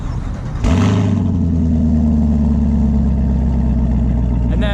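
A 2018 Chevy Camaro coupe's 6.2 liter naturally aspirated V8 remote starting: a quiet start, then a sudden crank and catch into a loud, rumbling idle that holds steady and close.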